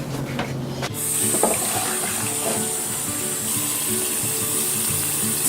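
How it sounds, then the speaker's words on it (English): Cold water from a kitchen tap gushes into a bowl of prickly pears after a couple of knocks, a steady loud splashing rush close by. "I'm just going to go and stick them under the cold water for a little bit to cool them down"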